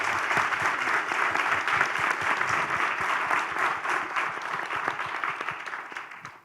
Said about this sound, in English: round of applause for this distinguished panel.